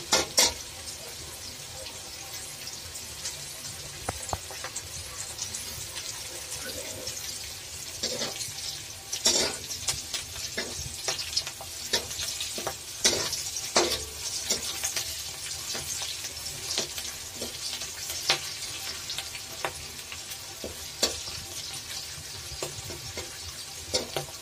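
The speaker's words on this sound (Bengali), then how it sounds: "পেঁয়াজ মরিচ ভেজে দিচ্ছি।" Onion and green chilli frying in hot oil for a tempering of bathua greens, with a steady close sizzle and occasional sharp clinks of stirring throughout.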